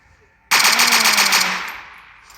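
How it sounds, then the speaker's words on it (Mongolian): Automatic rifle fire in a video game: a loud, sudden burst of rapid shots that starts abruptly, runs for about a second, then tails off with a fading echo. "Энэ автоматар шууд буудсан."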